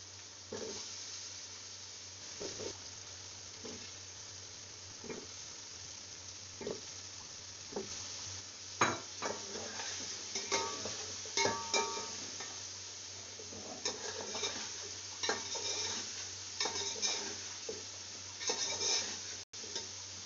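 Chopped potatoes go into a hot pan for Hyderabadi aloo tahari, sizzling and frying steadily with soft stirring scrapes and occasional utensil clicks, fairly quiet throughout, no voices.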